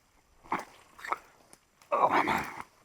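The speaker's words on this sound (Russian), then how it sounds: "Пришла собака моя." Dog on a hare hunt making short close sounds, two quick yelps or whimpers followed by a longer, rougher vocal burst, in a quiet outdoor setting.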